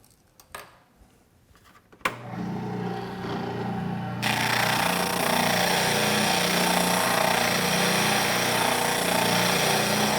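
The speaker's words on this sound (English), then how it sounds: "Using a small diameter spindle on the spindle sander, we're going to go back and take this radius down to shape." A spindle sander with a small diameter spindle shapes a radius on wood for a Greene & Greene style rafter table template, starting with a few clicks and then a steady loud whirring drone joined by abrasive grinding.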